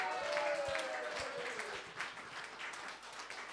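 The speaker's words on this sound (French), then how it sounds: "On lui donne une bonne main d'applaudissement quand même!" A theatre audience at a live show breaks into applause, a dense wash of clapping that is loudest at the start and thins slightly over a few seconds, with a faint voice or whistle passing through early on.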